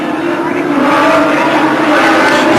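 Nissan Skyline touring race car at the 1986 Australian Touring Car Championship accelerating through the corners, a loud continuous engine roar with rising pitch, a commentator talking over it.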